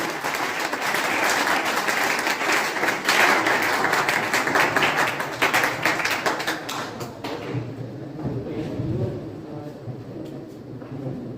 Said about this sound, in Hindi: राम सर के लिए भी एक बार जोरदार तालियां बजाते रहिए।